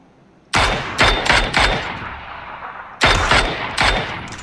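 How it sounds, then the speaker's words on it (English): Loud bursts of video game gunfire in an online shooter match: a quick run of three or four sharp shots, a pause, then another cluster of three, close and punchy with no talk over them. "That was two nice shots right there."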